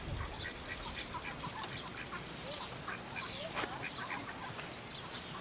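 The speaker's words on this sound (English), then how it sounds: "Look at all the ducks, Sarah." A flock of ducks at a zoo quacks and chatters continuously, many overlapping calls at moderate distance in a noisy outdoor setting.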